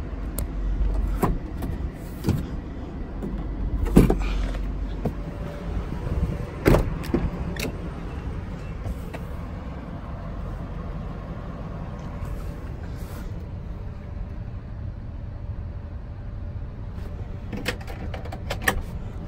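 Electric motor of the sunroof on a 2010 Infiniti QX56 4WD whirs steadily inside the cabin as it opens, with scattered clicks and thumps from the vehicle interior around it.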